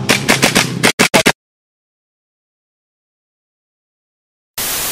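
An SI Silent Arm gun fires in a video game as a rapid burst of about six sharp, loud shots, followed by a long silence and then a sudden burst of noise.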